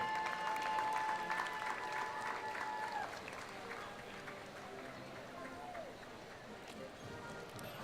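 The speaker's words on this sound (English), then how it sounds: "So a round of applause for Pat Standardi" Crowd applause and cheering at a Fourth of July parade for a marching participant, a broad steady wash of clapping near and far, with a high whistle-like tone early on and traffic or hooves faintly underneath.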